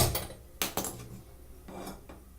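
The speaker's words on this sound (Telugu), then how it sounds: "ముందుగా స్టవ్ ఆన్ చేసుకొని ప్యాన్ పెట్టేసుకుందాం." A metal pan set down on a kitchen stove, a few sharp clanks and knocks in quick succession, then a softer clatter, close and alone.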